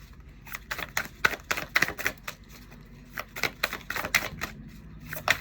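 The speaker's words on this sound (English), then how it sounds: "I'm going to keep shuffling and then we'll see if they come back out" A deck of tarot cards being shuffled, with quick clicking card riffles and taps arriving in uneven bursts close by and no talk.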